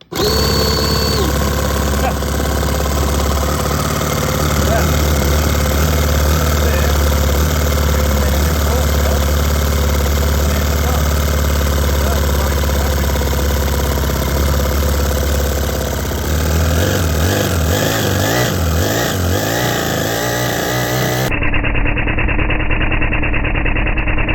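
A small four-stroke model engine with a see-through cylinder head runs loudly and steadily, a continuous buzzing drone that shifts pitch near the end as the revs change.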